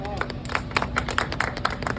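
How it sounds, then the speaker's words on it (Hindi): A cruise party crowd claps in scattered, uneven bursts beneath continuous talk and background music. "तो एक बार इसके लिए भी क्लैपिंग"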